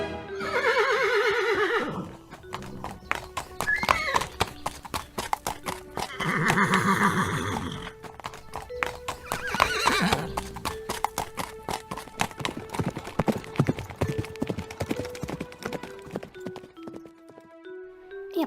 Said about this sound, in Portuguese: Olhei e vi um cavalo branco.